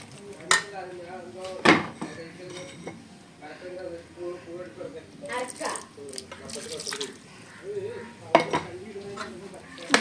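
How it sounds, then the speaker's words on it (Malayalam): A spoon scrapes and clanks against a pot while coconut and meat are stirred together for a Kasaragod-style elissery. The irregular metallic knocks sound close, and a person talks over them. "നന്നായിട്ടൊന്ന് ഇളക്കിയിട്ട് ജസ്റ്റ് ഒന്ന് മൂടി വെക്കാം"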